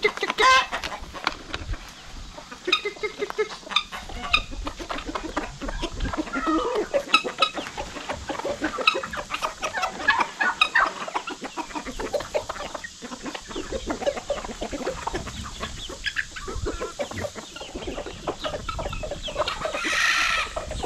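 Backyard chickens cluck and murmur steadily while pecking at dried black soldier fly larvae treats, a busy flock sound filling the whole stretch at moderate, close range with occasional louder squawks.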